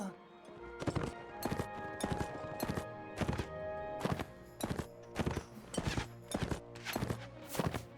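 Horse hooves in the video game Warsword, a steady run of loud, close clip-clop hits in quick pairs over a constant low game background, with no talk.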